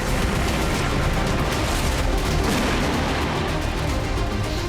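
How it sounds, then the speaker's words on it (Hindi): Missiles are launched and explode during an Iran–Israel war attack, producing a dense, continuous roar of booming rumble with no break, loud and sustained throughout. "IRGC अपने अलग अलग बेस से घातक मिसाइलें दाग रहा है।"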